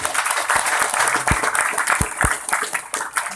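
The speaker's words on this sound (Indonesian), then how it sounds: "Tepuk tangan untuk Abah Al-Baghdadi." An audience at a dzikir manaqib religious gathering claps, with scattered hands heard over steady crowd murmur and a few distinct louder claps for about three seconds.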